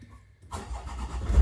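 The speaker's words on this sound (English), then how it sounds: "Car still starts." A Land Rover Discovery 5 engine cranks and catches after a brief quiet moment, then settles into a low, steady rumble.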